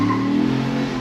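A modified, turbocharged 2021 Ford Bronco accelerates hard as its tires break loose, giving a brief, loud, steady engine roar close by.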